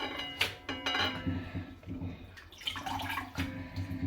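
Fresh spinach is rinsed in water for crispy spinach fritters, with soft splashing and dripping swishes in quiet, uneven bursts while someone talks nearby.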